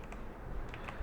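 Computer keyboard typing while a new C++ file is created, quick soft key clicks in a short run, close but faint, with no voice.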